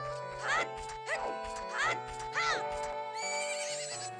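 Several short, high, wavering horse neighs repeat in Majora's Mask 3D, followed by a longer bright musical jingle, over a low game tone.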